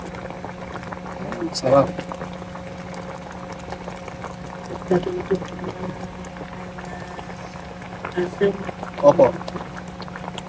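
Sinigang of milkfish and shrimp with kangkong simmering in a pot gives a steady low bubbling bed under frequent nearby talk, with louder stirring or clinking bursts now and then.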